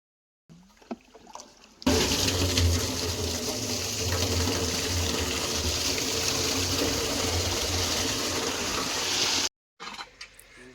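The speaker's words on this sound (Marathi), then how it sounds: "हे जे आपण मिश्रण करत आहे हे पूर्णपणे आपल्याला 1 घंटा याला खालवर करायचं आहे" A mixture of fresh cow dung and water is churned for manure, giving a continuous loud sloshing, gushing wash of liquid with faint splashes before and after.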